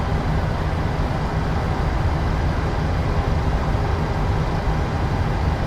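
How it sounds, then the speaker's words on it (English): Steady, loud Boeing 737 jet engine roar in a Microsoft Flight Simulator (PMDG 737) cockpit, with a low rumble and broad hiss, continuous and unchanging throughout, heard from inside the enclosed cabin. "Are the engines this loud and do they sound like this in the cockpit?"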